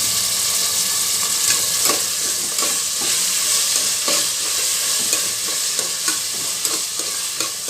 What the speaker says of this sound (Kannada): ಎಣ್ಣೆಯಲ್ಲಿ ಸ್ವಲ್ಪ ಫ್ರೈ ಮಾಡೋದ್ರಿಂದ ಸಾಫ್ಟ್ ಆಗುತ್ತೆ